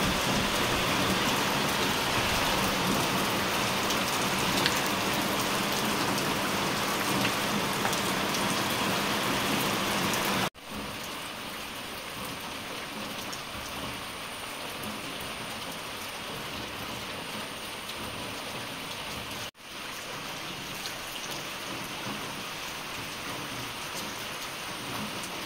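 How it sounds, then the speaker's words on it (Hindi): Heavy rain falls at night on the jungle of Rajaji National Park, a dense, steady, loud hiss of drops with low thunder rumbling beneath, interrupted by two short breaks. "उस समय रात हो रहा था, आधी रात हो रही थी और बारिश हो रही थी।"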